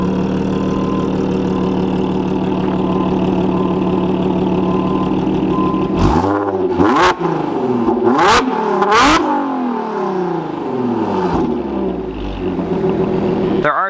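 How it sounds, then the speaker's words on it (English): A track-day car's engine idles steadily, then is revved hard three or four times through its exhaust, each sharp rise falling back before it settles toward idle. The revs are loud and close. "You want to give me a rev clip?"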